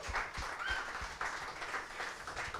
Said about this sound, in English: round of applause for Jesse Carlson